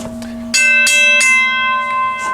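A WABCO BA-10 mechanical locomotive bell rings close and loud as the gong hammer strikes it three times in quick succession, each clang leaving a long bright ringing tone.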